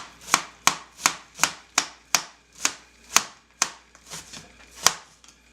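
A kitchen knife chops an onion on a cutting board while a lobster dish is being cooked: about a dozen crisp, close, evenly paced cuts with short pauses between strokes.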